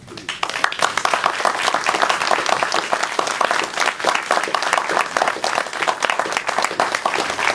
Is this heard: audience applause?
yes